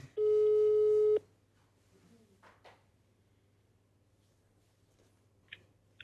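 A single steady telephone tone of about a second sounds while a TV show host phones a guest, followed by near silence with faint rustles and a small click.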